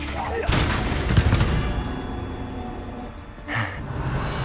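Spell-combat blasts from Hogwarts Legacy: a few booming magical impacts, one strong burst early and another near the end, amid continuous rumbling battle noise and a talking voice.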